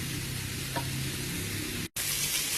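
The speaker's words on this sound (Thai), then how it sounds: "ใส่ซีอิ๊วหยอกไปแล้วก็คั่วไปเรื่อย ๆ ค่ะ" Duck pieces stir-fried with soy sauce over medium-low heat give a steady, close hissing sizzle, broken by one brief dropout near the end.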